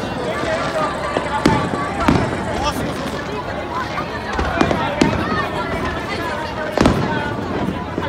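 Distant fireworks thud and crackle in scattered bursts over a noisy crowd on Azumabashi Bridge at the Sumida River fireworks festival in Tokyo, with voices murmuring and a Japanese crowd-control announcer talking throughout.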